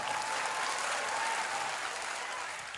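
Steady applause from an audience at a talk, a dense wash of clapping that holds level throughout and eases slightly toward the end, with no voices over it.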